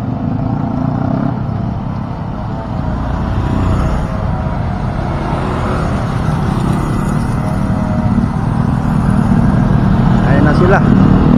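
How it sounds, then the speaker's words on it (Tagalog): Motorcycles pulling away together at a highway go signal, their engines rising into a steady, loud drone with passing traffic, people talking over the noise throughout. "Ayan, go signal lang, umabante na yung mga motor."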